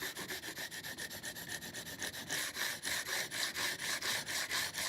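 A thin chisel bevel is ground back and forth on a sharpening stone, held in a Sharp Skate honing jig, producing steady rhythmic rasping strokes that are close and fairly loud, with no voices.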